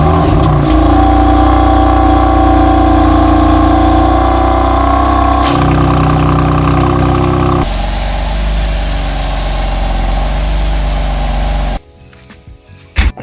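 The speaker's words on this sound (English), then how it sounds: "this cold start is pretty addictive to listen to" A BMW M4 cold start: the engine settles into a loud, steady high idle, drops in pitch after a few seconds, then cuts off near the end.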